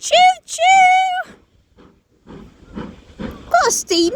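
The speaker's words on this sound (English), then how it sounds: "We've got a steam train, folks! Giving the choo-choo!" A steam train at Didcot Parkway sounds a long, steady whistle blast followed by hissing steam, with someone talking excitedly over it.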